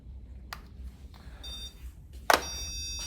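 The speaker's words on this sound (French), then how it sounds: "Ici, c'est un détecteur mural." A Zircon HD 900C wall stud and metal detector gives short electronic beeps and tones, a few separate bursts with a sharper louder one near the end, close and with no talk over it.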